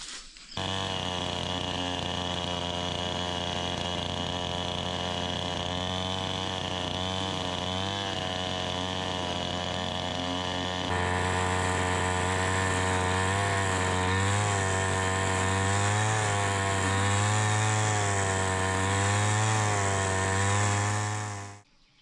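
A fallen birch lying across a forest road is cut with a motor saw, a loud steady high engine whine that holds for about twenty seconds, pitch wavering under load in the second half, then cutting off.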